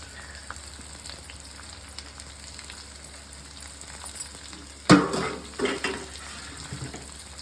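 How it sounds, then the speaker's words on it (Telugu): Onions frying in a pan until brown give a steady low sizzle, with a sharper burst of crackling and clatter near the end as the pan is handled; no one speaks. "బ్రౌన్ కలర్ వచ్చే వరకు ఉల్లిపాయలు వేపాలి"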